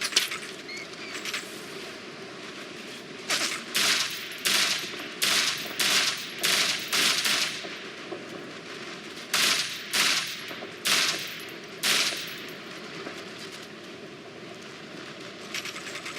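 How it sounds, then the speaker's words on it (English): Bursts of automatic gunfire from the Operation Flashpoint: Red River video game, in repeated short volleys spread through the stretch with gaps between them, set against a steady low background rumble. "I hear gunfire."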